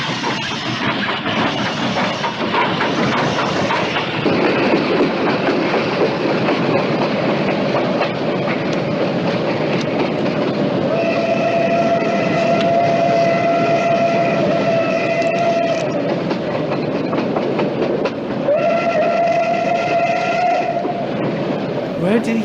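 A train rumbles and clatters steadily along the tracks, with a loud, sustained whistle blowing twice over the continuous rolling noise.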